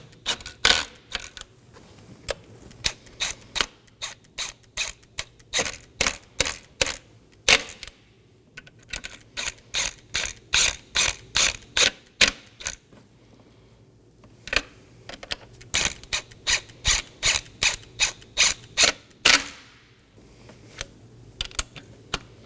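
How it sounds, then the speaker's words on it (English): A ratchet snugs down the intake manifold fasteners on a Nissan Maxima in bursts of rapid, sharp clicking, with short pauses between each fastener and no talk. "I'm going to snug down my intake manifold fasteners to the sequence you see on screen."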